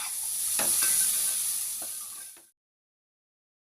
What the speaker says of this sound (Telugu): చిన్నగా కట్ చేసి పెట్టిన క్యారెట్ ముక్కలు వేసుకోవాలి.